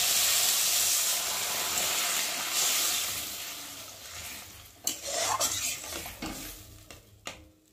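Water rinsed from a bowl of ground mustard paste is poured into bitter gourd frying in a pan, a loud sizzling hiss that fades into softer bubbling, followed by a few clinks of a utensil against the pan.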